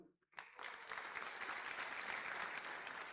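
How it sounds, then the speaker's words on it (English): Audience at a medical college white coat ceremony bursting into applause after a short quiet gap, a dense, sustained patter of many hands continuing steadily. "Please, can you help me to clap for him?"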